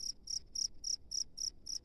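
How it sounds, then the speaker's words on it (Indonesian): A large field cricket in a rice paddy chirps close up, with eight evenly spaced bright trilled bursts over a soft low background. "Di sini ada jangkrik yang sedang krik krik krik krik ya."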